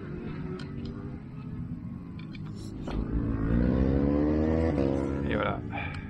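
A Tamiya Rock Socker RC crawler whines as its electric motor runs in reverse and then speeds up outdoors, the pitch rising and holding, close by, while someone talks over it.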